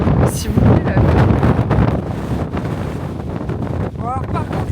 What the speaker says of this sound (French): Alors par contre le vent c'était pas nécessaire là.